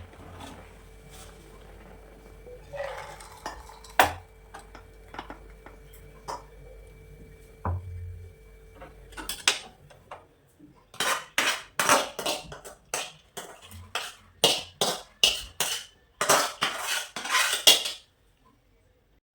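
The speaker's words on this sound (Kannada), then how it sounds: "ಈಗ ಇದನ್ನ ಬೇರೆ ಪಾತ್ರೆಗೆ ಹಾಕ್ತಾ ಇದ್ದೀನಿ" Cooked toor dal being moved from one pot into another in a home kitchen: faint scrapes at first, then a quick run of loud, sharp metal clanks and scrapes close by, with no talking.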